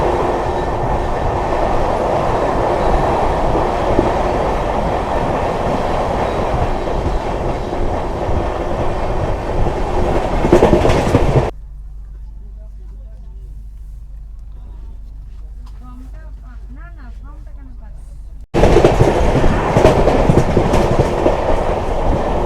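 The 18615 Kriya Yoga Express on its Howrah to Ranchi run rumbles loudly along the rails with rhythmic clatter, drops to a near-quiet hush for several seconds midway, then bursts back into full running noise.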